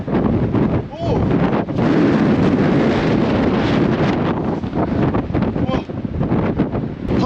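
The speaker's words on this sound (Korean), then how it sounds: "바람 소리 들리시나요?" Strong wind roars and buffets the microphone in long gusts on a mountain top in South Africa, with a voice speaking briefly in between.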